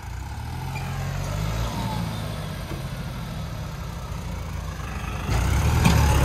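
A four-wheel-drive New Holland 6010 tractor engine labours hard, pulling an 18-foot trolley stuck in the ground, with a JCB also pushing. The heavy engine drones steadily and up close, then grows louder and rougher near the end, with no voices.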